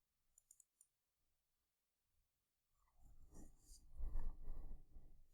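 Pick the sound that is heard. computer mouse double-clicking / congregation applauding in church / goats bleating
computer mouse double-clicking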